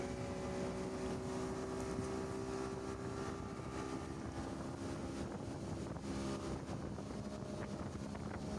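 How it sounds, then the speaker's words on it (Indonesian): Speedboat ride on the open sea off Lampung, a steady loud engine drone mixed with rushing water and wind buffeting the microphone throughout, with no talking. "ternyata seru juga ya naik speedboat kayak gini"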